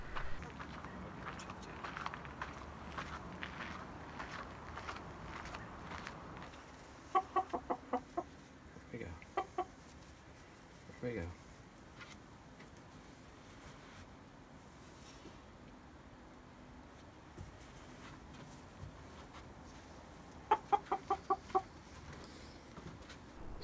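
A live rooster held for a homemade plastic planting-pot killing cone clucks in short bursts of several rapid notes, close and fairly loud, separated by quieter handling and rustling noise.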